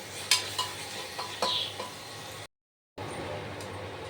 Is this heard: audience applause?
no